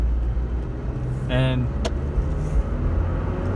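A 1998 Vauxhall Frontera driving along a road, its steady engine and road rumble continuous throughout, with a brief tonal whine and a short click partway through.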